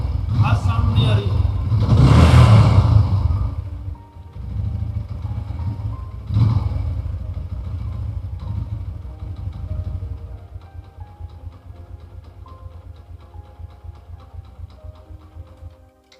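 Single-cylinder engine of a TVS Apache RTR 160 motorcycle running close by, revving up loudly early on then settling into a steady, ticking idle as the revs fall, with someone talking over it.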